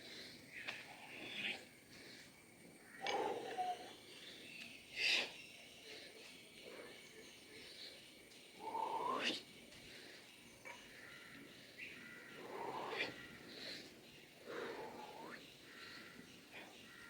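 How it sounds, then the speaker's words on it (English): Forceful exhales and breaths during a traditional Indian mugdar club workout, several sharp breathy bursts spaced a few seconds apart, fairly close but quiet over a low background hiss. "just keep on breathing and exhale"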